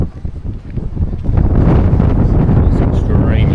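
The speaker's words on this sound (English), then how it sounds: "It's extremely windy" Strong coastal wind at St Ives roars and buffets the microphone, building from gusty bursts into a loud continuous rumble, with faint voices in the background.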